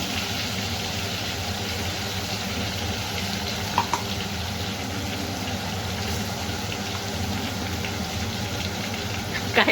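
Butter and oil sizzle steadily in a pan for pav bhaji, a continuous loud frying hiss that holds throughout with a couple of faint clinks.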